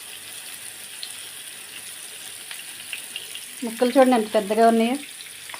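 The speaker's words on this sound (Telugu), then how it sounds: "ఒక 4 ముక్కలు ఉంచేసి ఇప్పుడు ఫ్రై చేస్తున్నాను." Four large fish pieces frying in a pan give a low steady sizzle, with someone talking briefly over it near the end.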